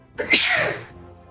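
One sharp sneeze, close and sudden, with a quick inhale before the burst and a brief fading tail.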